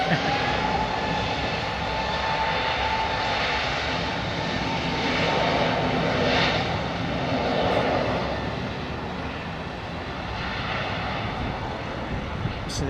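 A Boeing 777 jet climbing out after departure, a steady broad roar of engines heard from a distance, swelling and easing slightly over time.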